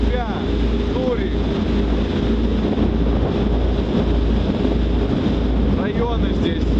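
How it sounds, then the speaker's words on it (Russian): Strong wind buffets the microphone with a steady low roar and gusty rumble, with faint splashing water mixed in, on a slightly frosty day in Rotterdam, Netherlands. "Чуть-чуть мороз, ветер сильный."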